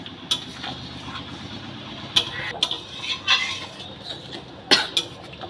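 Moong dal with sugar being stirred in a pot, soft scraping and clinks of a spoon against metal at intervals over a low simmering bubble, fairly quiet, no talk.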